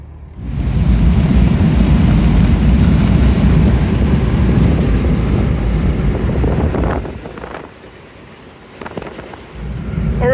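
Loud, steady wind roar from an open sunroof fills a 1983 Sprinter camper van as it drives on MA700 air shocks, dipping briefly near the end before surging back.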